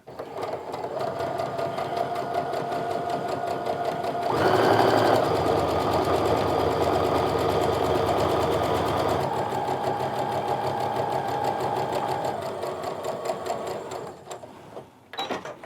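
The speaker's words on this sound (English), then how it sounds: "And now I'm just still going to sew straight down the center, but on the other side of the line that I drew." A sewing machine stitches straight down the center of a fat-quarter star quilt block in white thread on white fabric, a steady close hum that grows louder midway before easing off near the end.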